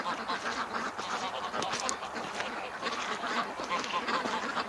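A flock of ducks quacks continuously and loudly close by outdoors on a calm day, their overlapping calls forming a dense, busy chorus.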